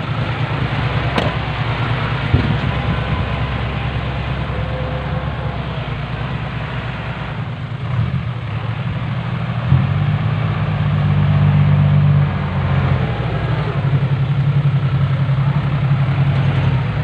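A vehicle engine runs steadily close by on a muddy site where a dump truck is stuck, a low continuous rumble that rises in load partway through as it moves, with brief knocks and no talking.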